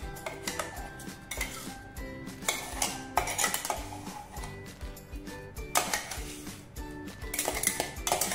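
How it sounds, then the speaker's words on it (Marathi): A spoon scrapes and clinks against a metal bowl while raw chicken is mixed with salt and a ginger, garlic, green chilli and coriander paste for chicken sukka, giving steady close stirring with sharp intermittent clatters. "आता हे सगळं मस्त मिक्स करून घ्यायचं एकसारखं."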